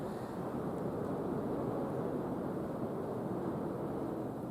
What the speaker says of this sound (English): I bet you can hear that wind.